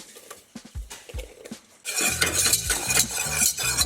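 Roux of unsalted butter and all-purpose flour cooking over medium heat in a pan, a few sharp utensil clinks against the pan, then a steady, dense sizzle that takes over at close range.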